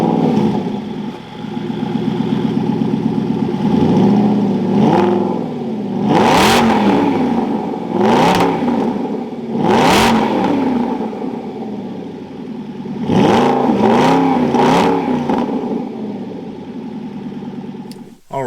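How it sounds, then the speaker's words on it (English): A naturally aspirated V8 in an Aston Martin Vantage GT with a manual gearbox fires up, then gives several sharp revs that rise and fall over a steady idle, with a voice talking over it. "Fires up and we get that naturally aspirated V8."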